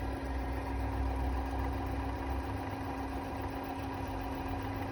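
An electric motor on a lab test bench, supplied at 50 volts and turning at about 440 RPM, gives a steady, continuous hum with a faint vibrating rumble. It stays even throughout with no talking.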